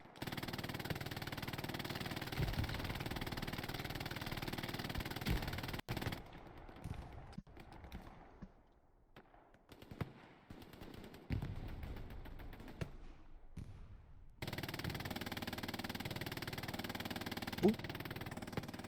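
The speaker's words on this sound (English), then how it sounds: "And all the firing from Turbo Queef." Gunfire in the World War II shooter Hell Let Loose crackles as rapid, distant bursts over a dense, steady battle din, which drops away briefly midway before returning.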